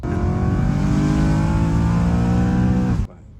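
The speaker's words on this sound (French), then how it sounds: "Mais ça monte vraiment fort dans les tours." A BMW M3 E93 convertible's engine revs hard and holds at a high, loud whine for about three seconds, then cuts off abruptly into near silence.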